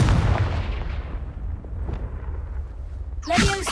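A Confringo blasting spell goes off in the Hogwarts Legacy video game with a loud, deep boom that rumbles and fades over a few seconds, before a sharp new burst of crackling noise arrives at the end.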